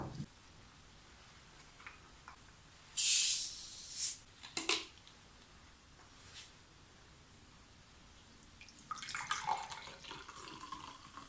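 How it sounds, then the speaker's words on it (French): Fizzy lemonade poured into a large glass for a Kerala-style fuljar soda, heard as a loud, hissing gush lasting about a second, then short splashes and later a softer fizzing trickle. "on va prendre le grand verre et on va verser le limonade"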